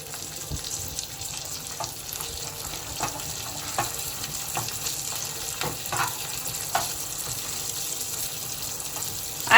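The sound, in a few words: dal dosa mixture cooking on gas stove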